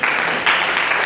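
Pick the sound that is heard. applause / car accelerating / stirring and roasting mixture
applause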